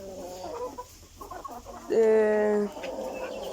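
Chickens cluck softly in the background of a coop with roosters, then one nearby bird lets out a single loud, drawn-out call before the coop settles back to low murmuring.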